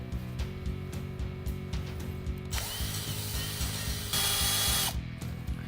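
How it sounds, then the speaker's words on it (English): A brass brush from a BGS 9324 injector seat cleaning set scrubs the outer walls of an injector shaft, giving two loud, raspy scraping bursts over a steady low mechanical hum and earlier clicking taps. "Now we can clean the outer walls of the shaft with the brass brush."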